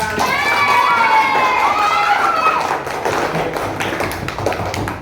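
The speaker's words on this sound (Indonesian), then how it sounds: "Tepuk tangan semuanya" A classroom of children clapping together during an Islamic studies lesson, a dense patter of hand claps that stays loud and steady throughout, with overlapping young voices shouting above it.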